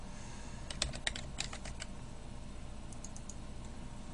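Typing a folder name on a computer keyboard: a quick burst of about a dozen close, crisp key clicks, then a few softer taps after a pause, over a faint steady room hum.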